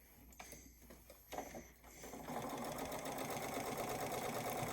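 A sewing machine stitches striped fabric on the diagonal for a quilt block, starting with a few hesitant bursts, then running in a steady fast whir from about two seconds on, close but fairly quiet with no speech.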